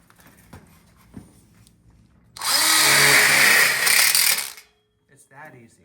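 A power drill drives a screw into an outdoor kitchen grill platform kit, a loud steady whir lasting about two seconds that slows at the end, preceded by light knocks and handling noises.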